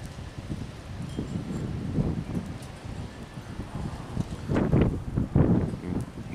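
Wind gusting through trees on a cold, slushy evening, a rough rushing noise that rises and falls in uneven surges, growing stronger toward the end.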